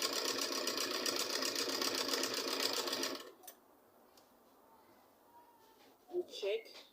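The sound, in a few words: sewing machine stitching fabric for a turban cap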